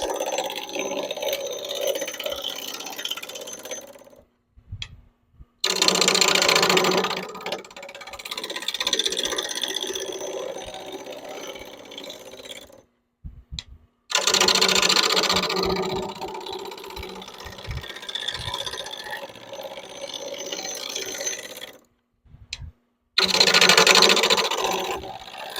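A wood lathe rough-turns a chisel handle blank at about 1,000 RPM, giving bursts of harsh, gritty cutting noise separated by near-silent gaps as the tool comes on and off the spinning wood.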